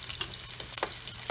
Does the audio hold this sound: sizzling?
yes